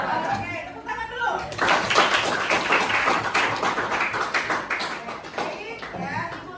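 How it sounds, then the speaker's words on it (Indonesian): A classroom of students claps together in a lively burst that builds quickly and continues for several seconds, loud and close, with young voices chattering faintly underneath. "Oke, tepuk tangan dulu"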